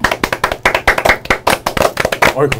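A small group clapping close by for a committee chairman at a political talk show, quick uneven handclaps in a loud, busy burst lasting a couple of seconds.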